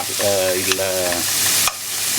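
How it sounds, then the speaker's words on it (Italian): Lard fries in a pan over low flame with no water added, giving a steady close sizzle for a couple of seconds, broken by a brief stirring clink midway and a sharper knock near the end. "fate soffriggere il vostro lardo senza aggiungere acqua"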